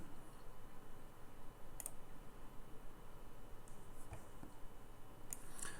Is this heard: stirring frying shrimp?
no